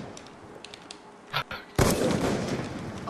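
A single loud gunshot bursts out in a Call of Duty match, a sharp crack followed by a sustained rumbling tail, preceded by a few faint thuds and clicks.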